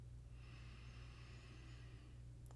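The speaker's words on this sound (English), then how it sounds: "So breathing in nice and slow." A slow, drawn-out inhale through the nose during a guided breathing exercise, soft and close, over a steady low hum in the room.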